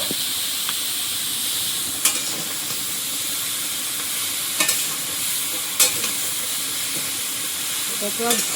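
Ridge gourd and its stalks stir-fried with shrimp in a village kitchen, a continuous close sizzle with a few sharp spatula scrapes and knocks against the pan.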